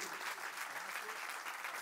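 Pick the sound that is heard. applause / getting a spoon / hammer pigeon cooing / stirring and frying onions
applause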